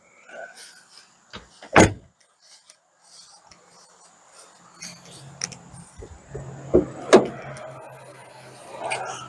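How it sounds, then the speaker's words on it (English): Hood of an Audi S4 ute with a V8 engine being popped open: a sharp, close latch clunk early on, then scattered rubbing, clicking and scraping noises, and a second pair of loud knocks near the end. "Let me pop the hood and we'll look at it."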